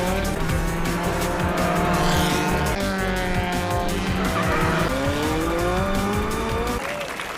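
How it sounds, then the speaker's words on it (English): Race car tires squealing and skidding as they lose grip during an anime Formula One race, loud wavering screeches sliding up and down over steady engine roar, with faint crowd applause underneath. "his tires started giving up, and he started slipping behind again"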